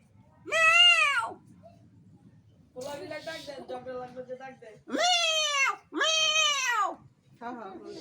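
A voice mimics cats yowling and squalling at each other, several drawn-out rising and falling cries in bursts with pauses between.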